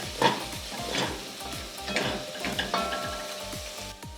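Beef and onions sizzle in a pan for a brisket recipe, with a steady hiss and regular scraping strokes of a spatula stirring, close up and with no talking.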